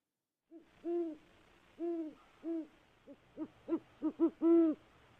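An owl hoots in a series of about ten calls, starting with a few drawn-out hoots and then quicker, shorter ones, ending with a longer hoot, heard alone at moderate distance.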